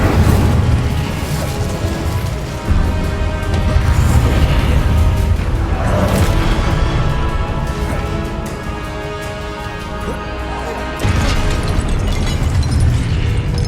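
Fiery spell blasts from the Hogwarts Legacy video game, a continuous loud roar of booming bursts and crackling flame with repeated surges, dense and steady throughout with a brief dip before a renewed blast.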